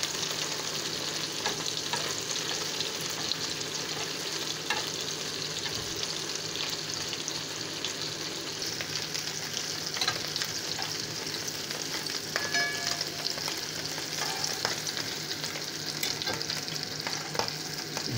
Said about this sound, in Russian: Мозги, панированные в муке, я обжариваю до золотистой корочки.